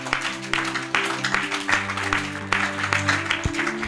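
A church congregation applauds in rhythmic bursts of clapping, with sustained organ or keyboard chords and some voices underneath.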